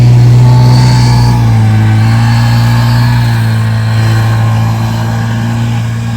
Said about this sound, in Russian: Вот такой приспособой на буране.